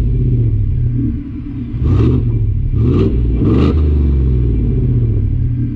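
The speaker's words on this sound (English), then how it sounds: "this exhaust sounds much better than the stock exhaust that you can get on this car" Ford F-150 with a 5-liter V8 and SCA Performance aftermarket exhaust, heard as three sharp throttle blips in quick succession over a deep, loud, rumbling idle.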